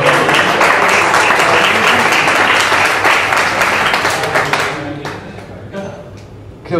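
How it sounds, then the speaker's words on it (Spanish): An audience claps loudly for an organization at an evening music event, a dense, sustained burst of many hands that thins out and fades toward the end as a few scattered claps linger. "Un aplauso para el ESAM."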